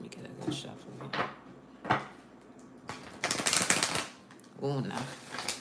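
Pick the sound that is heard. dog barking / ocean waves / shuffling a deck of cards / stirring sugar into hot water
shuffling a deck of cards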